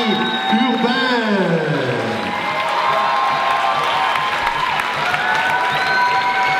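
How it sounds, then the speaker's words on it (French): Audience applause and cheering for a pro-am dance couple at a 2016 Canadian dance competition, a steady wash of clapping from a large crowd with whoops, alongside tonal music at first. "On applaudit bien fort Joanie, Urbain."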